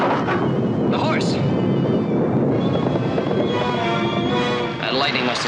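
A loud, sustained rumble of thunder during a storm, rolling continuously, deep and heavy, filling the whole stretch with a roaring low wash.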